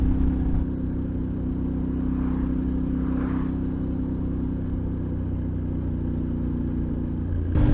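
A Yamaha Tenere 700 motorcycle engine drones steadily while riding, a constant low rumble with wind noise at close range, holding even throughout with no voices.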